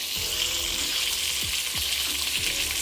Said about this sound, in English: Because I am browning my oxtail first.